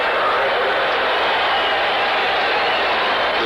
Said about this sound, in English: The cheer you hear is for the Sun.